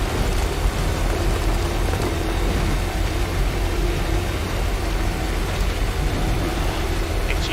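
Steady, dense hiss of timefall rain in the video game Death Stranding, falling continuously at an even level with no talk over it.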